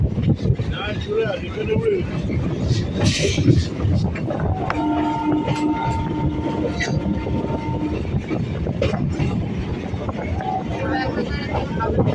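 A crowded suburban train on the Sealdah to Lakshikantpur line rumbles steadily with rattling wheels and wind noise, and someone talks over the continuous clatter.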